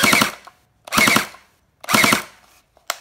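An SKD M4 SS toy gel blaster fires on full auto in three close, loud bursts of rapid rattling shots separated by brief pauses, with no talking.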